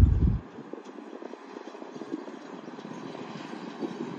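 2013 Caterpillar CT660 dump truck with a Cat CT13 engine looping around an equipment yard: a short thump, then a steady, low diesel rumble that holds throughout.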